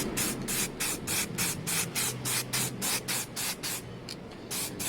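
Spray paint can laying a light tack coat on a Suzuki GSX-R 600 K2 motorcycle part, a rhythmic series of about a dozen short hissing bursts with brief gaps, close and crisp.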